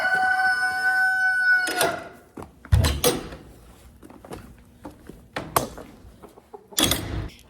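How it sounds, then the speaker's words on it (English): A barn rooster crows loudly nearby in one long drawn-out call, followed by scattered knocks and rustling, then a short burst of noise at the end. "I now have a barn rooster"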